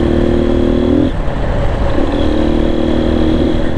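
A motorcycle is ridden along a mountain road on the way from Pokhara to Muktinath, its engine droning steadily and close throughout with slight shifts in pitch and no talk.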